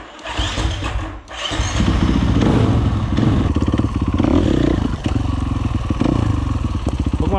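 A 450 four-stroke enduro motorcycle revs loud and close on a hard-enduro course, its engine pulsing and chugging steadily with brief dips, clatter and thuds as it climbs obstacles.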